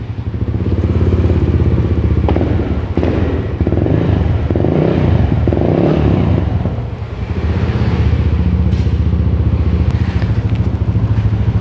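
A Yamaha Aerox scooter engine, just repaired after a radiator fault, starts up and runs loud and close, with steady idle rumble and a few revs throughout.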